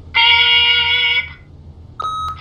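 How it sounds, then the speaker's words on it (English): An answering machine beep in The Wolf Among Us: a long, loud electronic tone lasting about a second, a brief silence, then a shorter second tone with a click, heard alone without talk. "Beep!"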